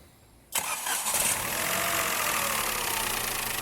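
A Peugeot 208 three-cylinder car engine cranks and catches with a sudden loud start, then settles into a steady, close idle hum with no talk over it.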